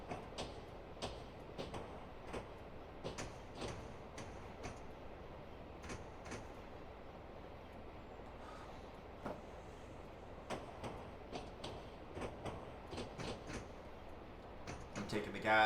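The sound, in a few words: train rolling along track in railroad video game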